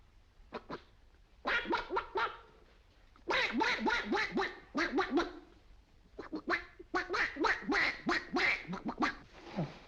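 A voice imitates a duck with bursts of rapid, nasal quacks in quick repeated runs, loud and close, separated by short pauses.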